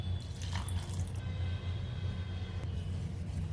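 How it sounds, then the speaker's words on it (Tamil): Water being poured into sweet potato and semolina batter for kuzhi paniyaram while stirring, a brief splashing trickle at the start followed by a steady low rumbling background. "இப்போ கொஞ்சமாக தண்ணி சேர்த்து இதை கரைச்சி எடுத்துக்கலாம்"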